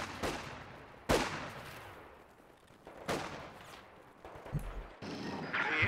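Distant rattling bursts of machine gun suppressing fire on a Company of Heroes 2 battlefield, with sharp shots recurring every second or two over a low background of battle noise.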